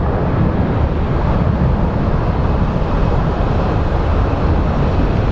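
An airplane roars at Phoenix Sky Harbor International Airport, a dense, loud, steady rushing engine noise with wind buffeting and no voices.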